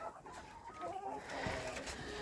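Chickens in a farmyard coop cluck softly and steadily, close by and fairly faint over a brief stretch, with no voices.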